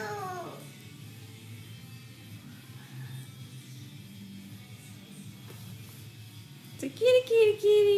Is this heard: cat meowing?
yes